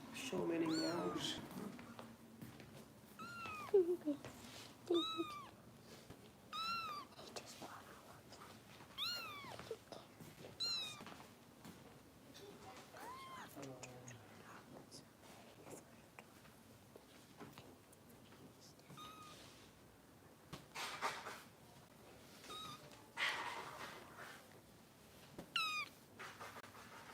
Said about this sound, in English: So many meows.